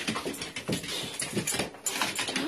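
A pet dog excitedly greets its returning owner at close range, with whimpers, pants and scrabbling paws in an energetic, continuous burst of activity.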